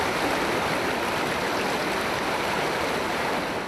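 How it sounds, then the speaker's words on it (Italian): A strong, at times violent river current in the Montello area, heard as a dense, steady rushing roar of fast water, close and loud throughout with no voices. "la corrente del fiume è forte, a tratti violenta"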